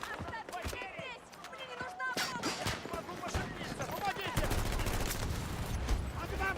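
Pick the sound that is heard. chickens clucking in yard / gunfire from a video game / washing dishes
gunfire from a video game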